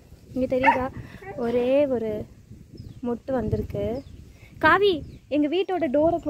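A dog in a home garden barks and whimpers in short bursts of yelps and bow-wows, close and fairly loud, with people talking over and between the calls.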